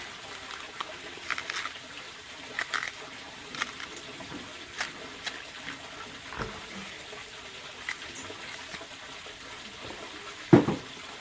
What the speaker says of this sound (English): you put some oil on your hand and you wash off your hand because oil take off the stain